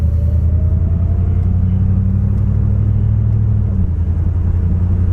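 A Dodge Diplomat drives down the road, heard from inside as a steady low engine rumble and road drone that holds an even level throughout, with no one talking.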